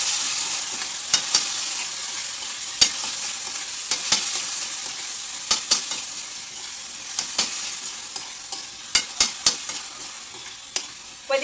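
Mixed seafood sizzling steadily in a frying pan, a constant close hiss with scattered sharp pops and crackles throughout.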